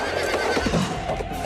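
A horse neighs loudly in a dramatic scene from The Hunchback of Notre Dame, its whinny rising over faint hoof clip-clops and a full cinematic background, with no talking.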